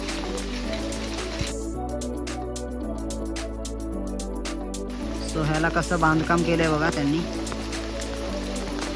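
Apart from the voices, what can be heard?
light rain falling at temple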